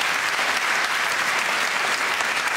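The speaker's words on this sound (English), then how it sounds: "Give him a round of applause." Dense, even applause from an awards audience greeting a Teacher of the Year winner, a continuous roar of many hands at full strength throughout.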